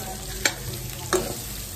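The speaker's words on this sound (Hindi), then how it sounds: "मैं बड़ी को भून रही हूँ" Dried lentil dumplings (badi) frying in a pan give a steady close sizzle, with two brief scraping stirs of a spoon, and no one speaks.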